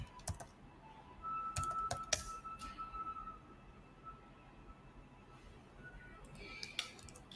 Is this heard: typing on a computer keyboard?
yes